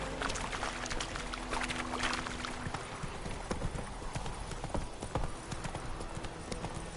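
Horse hooves clip-clop steadily at a walking pace in a video game, close and clear, with a brief low horn-like tone early on and faint background ambience.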